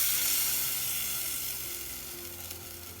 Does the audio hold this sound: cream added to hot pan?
yes